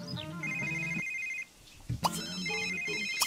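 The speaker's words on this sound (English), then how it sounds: "Oh, his phone had to ring in the shower." Electronic phone ringtone from The Sims 3 video game rings out loud and close in steady repeated tonal bursts, cutting off briefly then resuming, layered over game music and ambient sound with no talking.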